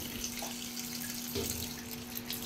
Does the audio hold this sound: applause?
no